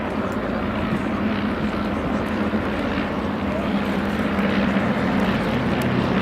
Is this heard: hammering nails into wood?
no